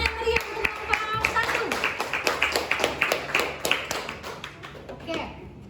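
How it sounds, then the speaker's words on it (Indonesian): A classroom of students claps for a student group after a presentation in an Indonesian-language lesson, a lively burst of many hands with sharp repeated taps, a teacher's voice and children's chatter running underneath. "berikan tepuk tangan yang meriah untuk kelompok"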